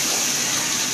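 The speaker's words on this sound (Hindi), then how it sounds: "इसमें हम आधा कप पानी ऐड कर देंगे।" About half a cup of water pours into a cooking pan in a short, steady, close gush.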